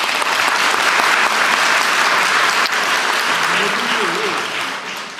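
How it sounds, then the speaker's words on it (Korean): Audience applause at a Gyeonggi North public town-hall event, a steady loud wash of clapping from a large crowd that holds throughout and tapers slightly at the end, with faint voices underneath. "박수 부탁드립니다."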